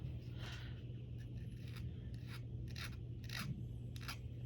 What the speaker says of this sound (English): We're going to take that burr off.